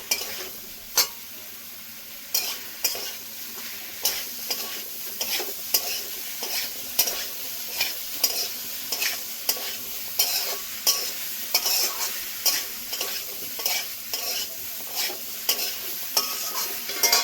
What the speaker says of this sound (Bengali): কচু আলুটা ভেজে রেখেছিলাম, এটাও দিয়ে দেবো। মশলার সঙ্গে মিশিয়ে নেব।